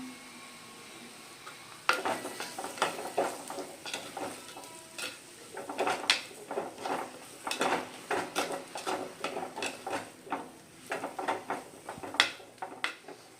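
Cut okra being stirred into a hot frying pan: a spoon scrapes and clinks against the metal in a steady, busy rhythm over a soft sizzle, close and fairly loud, with no talk.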